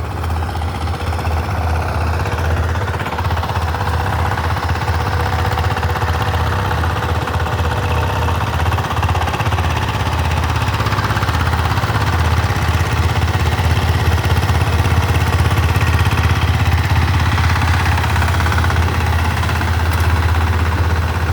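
Power tiller engine chugging in a waterlogged rice field, a steady low mechanical drone with faint knocking that stays constant and fairly close, slightly swelling toward the end, no voices.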